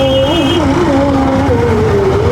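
Motorbike threading through dense traffic near a bus station roundabout, a steady close engine drone with a rising and falling tone under busy road noise, a brief high whine early on.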